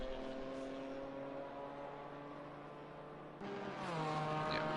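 A twin-turbo 3-litre inline-six GT4 race car at Laguna Seca in a racing video game drones steadily at high revs, then shifts abruptly and climbs again louder toward the end, continuous with no pauses.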